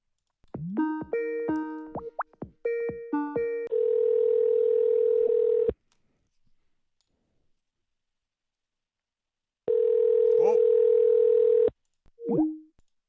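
A telephone dialing voicemails: rapid bursts of touch-tone beeps, then a steady dial tone that cuts off, a silent gap, a second dial tone and a short final blip, all loud and clear without talk.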